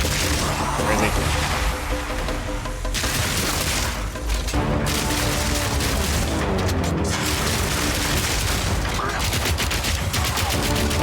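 Rapid automatic gunfire from armor-piercing rounds in the action game Path of Exile 2, a dense, continuous loud barrage of shots and impacts layered over game effects, with brief pauses and a voice talking intermittently.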